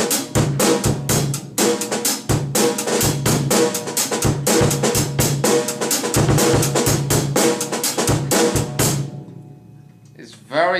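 Busy drum set groove with bass drum and other drums alongside guitar in a music lesson, fast dense hits throughout, loud and close, ending with a brief fade.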